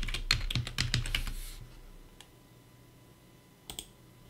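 Rapid clicking keystrokes on a computer keyboard while an email address and password are typed, a dense burst of close taps that stops, then a couple of isolated clicks later.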